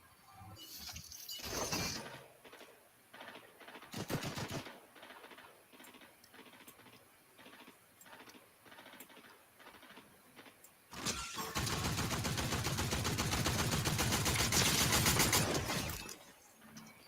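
Gunfire in the Fortnite video game, with short bursts early on and a long, dense rattle of rapid shots later, loud and up close, with no one talking over it.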